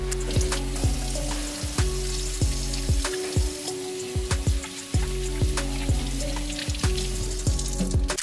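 Hands being lathered with soap and rinsed under a running tap at a sink: a steady, close rush of water throughout, broken by frequent sharp splashes and clicks from the hands, with a faint background hum and no talking.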